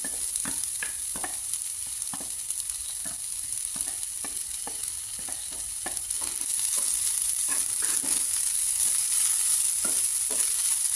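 Soya chunks and beans stir-fried with garlic in a pan, a steady close sizzle running throughout with repeated sharp scrapes and clinks of a spatula stirring, growing slightly louder toward the end; no talking.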